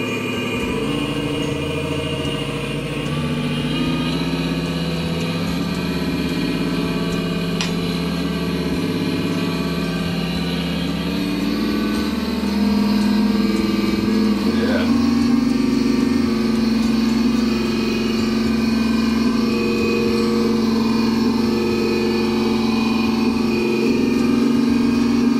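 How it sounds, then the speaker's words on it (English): Turbo diesel engine of a small RC tugboat running steadily on the bench with its motor disconnected, a continuous close hum with a slight rise in pitch partway through, no talking. "Got a nice little turbo diesel sound from my little tugboat here"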